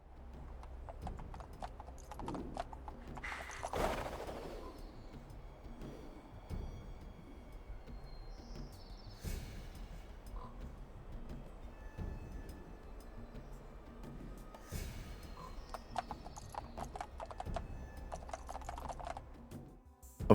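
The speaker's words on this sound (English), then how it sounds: "their feet make the sound of coconut shells being slammed together when they walk" Sleipnir hooves in the Fallout: London video game clop like coconut shells slammed together, a steady walking rhythm of hollow knocks repeating throughout, moderately close with faint background ambience.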